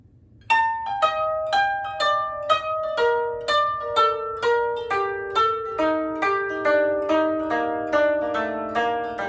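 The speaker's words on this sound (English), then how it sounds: "And then kotorin is to skip down the scale of the koto," Koto played with the kotorin technique, a run of about eighteen single plucked notes stepping down the scale at a steady even pace, each ringing briefly, close and clear with no voices.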